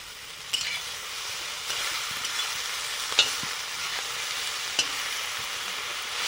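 Bathua greens fry in a pan with a soft continuous sizzle, broken by a few sharp scrapes and clacks of stirring spread across the stretch.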